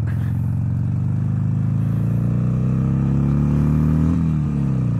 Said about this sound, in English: I decided I would take the wife's Sportster out today